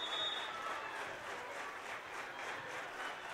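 Fans at a high school girls' volleyball match in a gym clap together in a soft, distant patter of rapid pulses that stays fairly even throughout.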